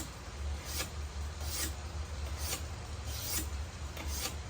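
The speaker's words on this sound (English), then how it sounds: "just simply use the window to sharpen a knife" A knife blade is drawn repeatedly across the edge of a partly lowered car window, giving about six evenly spaced rasping strokes over a low steady engine-like hum.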